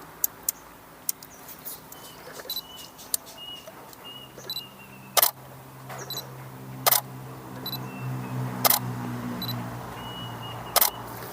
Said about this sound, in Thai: นี่ก็ถ่ายรูปเก็บไว้